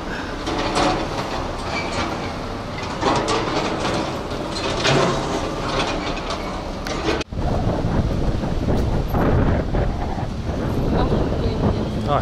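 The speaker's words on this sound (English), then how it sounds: "Oh, it's so windy." Steady, loud wind buffeting the microphone with a rumbling roar at an outdoor street market in Marbella, a brief dropout midway, and faint voices underneath.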